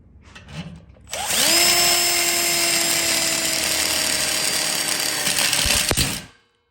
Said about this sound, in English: with self-drilling screws, you don't even have to use the hole in the connector plate